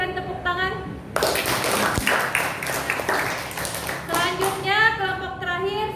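A classroom group applauds after a student group presentation, a burst of close, dense clapping lasting about three seconds, with children's voices talking before and after it.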